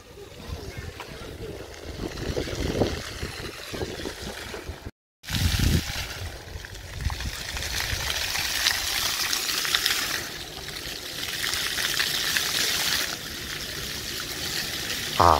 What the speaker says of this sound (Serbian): kako to pršti voda